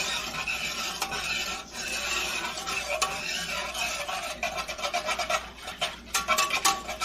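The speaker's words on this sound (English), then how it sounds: "we do have to keep whisking this until it comes up to boil" A whisk scrapes and swirls steadily through egg-yolk pie filling in a pot on the stove, a close, continuous rasping stir that breaks into quicker rhythmic strokes toward the end.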